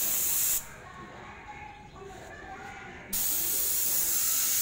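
Pump sprayer misting liquid onto a Quanchai tractor engine in two bursts of hissing spray, separated by a quieter pause with faint clatter, close and loud.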